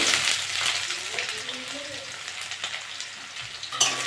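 Onions fry in hot oil with dried red chilli, bay leaf and five-spice seeds, a steady close sizzle and crackle with occasional stirring scrapes throughout, no voices.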